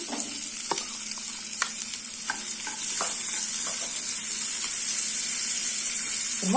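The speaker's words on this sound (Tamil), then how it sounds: "இப்போ இதில் நான் ஒரு பெரிய சைஸ் வெங்காயம் இந்த மாதிரி கட் பண்ணி வச்சிருக்கேன், அதை போட்டுறேன்." Chopped large onion hits hot oil in a pan and fries in a steady, bright sizzle, with occasional stirring scrapes and clicks. No one speaks.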